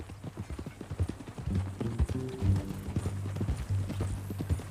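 A horse's hooves clip-clop in a steady walking rhythm in the Red Dead Redemption 2 video game, fairly close. Soft tonal game sound runs underneath.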